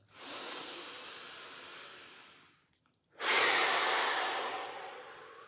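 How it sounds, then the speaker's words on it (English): Two long, deep breaths drawn close to the microphone, a soft airy inhale followed after a short pause by a louder, hissing exhale that slowly fades. "I'm going to take a deep breath."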